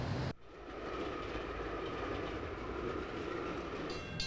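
A commuter train rumbles past on the rails with a steady, loud roar and clatter of wheels, after a brief abrupt cut at the start.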